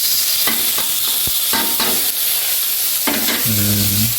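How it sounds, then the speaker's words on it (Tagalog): Ginger being stirred into sautéing oysters in a pan, with a steady loud sizzle and several sharp scraping stir strokes, ending in a ringing utensil tone; no one talks. "Luya, lagay po natin, halo-haloin natin"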